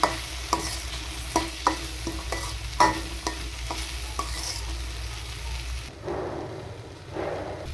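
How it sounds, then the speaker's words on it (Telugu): Chili powder stirred into a frying moong dal and egg curry in a pan, a steady sizzle broken by sharp spoon scrapes and clinks for about six seconds, then softer bubbling, with no speech. "కారాన్ని వేసి కలిపేయాలి"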